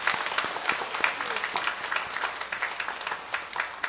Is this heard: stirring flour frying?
no